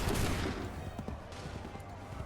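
A volley of musket gunfire in an Assassin's Creed 3 battle opens with a loud crackling blast, then scattered sharper shots and echoes trail off, with voices in the background.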